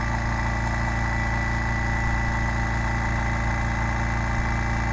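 A Makita MAC320Q quiet 3-gallon air compressor runs steadily, a continuous low motor hum with even mechanical drone throughout, moderately loud and without speech.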